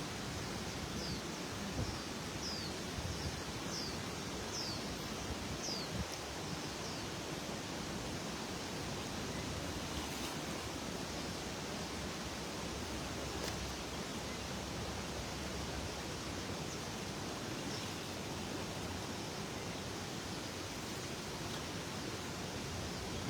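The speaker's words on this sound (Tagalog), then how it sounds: "Malakas yung agos" Constant broadband rush of a strong river current during net fishing, a steady even roar close by with no talk.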